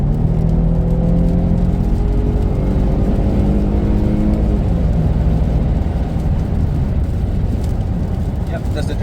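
A 2011 Mercedes-Benz C350 (W204) accelerates hard for a passing run, its engine note climbing steadily in a loud, continuous rumble with whirring road and wind noise throughout.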